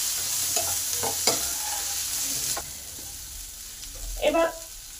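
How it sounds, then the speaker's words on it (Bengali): Potatoes coated in turmeric and salt being stirred in a pan for an egg curry, giving a soft continuous sizzle with a few scrapes and clinks of the spoon against the pan. Close by, with no talking. "নুন আর হলুদটা আলুগুলোয় ভালো করে মাখিয়ে দেব"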